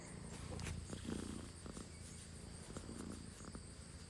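A cat purrs softly at close range in a quiet room where a small zipper pouch is being sewn, a low steady rumble with faint background hum and no talking.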